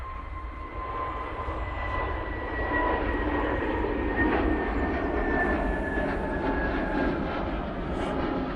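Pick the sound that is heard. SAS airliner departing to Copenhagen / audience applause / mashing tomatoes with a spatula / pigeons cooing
SAS airliner departing to Copenhagen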